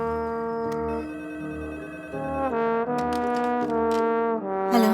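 A phone rings with a melodic, tonal ringtone that repeats in loud, sustained phrases with brief breaks between them, and no one talks over it.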